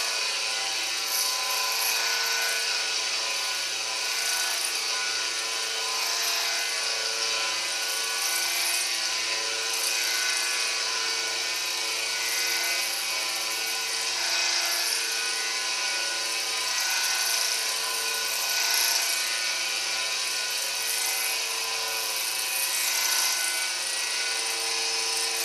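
A Lime hand shaper takes slow, careful light cuts in metal, giving a steady, fairly loud mechanical clatter and scraping that runs continuously with a faint low hum underneath and no talking.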